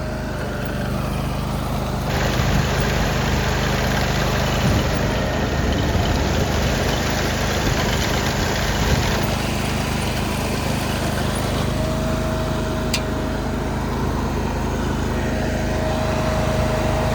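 A Ditch Witch C24X trencher engine runs steadily and loud up close, holding a constant drone with a shift in pitch partway through as the throttle is adjusted; no talking.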